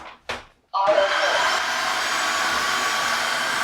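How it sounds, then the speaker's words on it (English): A floor-cleaning vacuum for parrot-keepers' floors runs with a steady, loud whirring drone as its brush polishes the floor, starting up after a brief clunk and short pause, then holding an even hum. "It's polishing the floor with this brush and giving it a nice clean."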